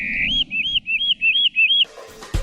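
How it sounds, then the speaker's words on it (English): A hermit warbler sings a clear, loud series of about six rising high-pitched buzzy notes in quick even rhythm, followed by a brief faint noise at the end. "hear hermit warblers singing a certain way"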